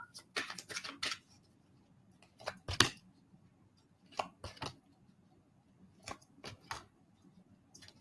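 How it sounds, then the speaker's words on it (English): Tarot cards are pulled from a deck and laid out on a table, heard as soft, close flicks and slaps that come in scattered bursts over a quiet background. "Karen, I'll pull 3 cards to see where you are on your journey"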